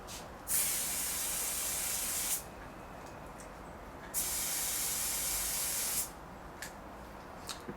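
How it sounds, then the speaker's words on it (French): Two long bursts of oil spray hiss loudly from an aerosol can onto an air filter, each lasting about two seconds, with a quiet pause between them. "je vais pouvoir appliquer la fameuse bombe à huile qui régénère le filtre"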